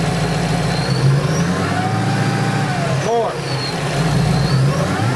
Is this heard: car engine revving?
yes